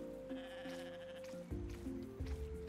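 A goat bleats in the Roots of Pacha farming game, a drawn-out wavering call over soft background game music, followed by a couple of shorter bleats.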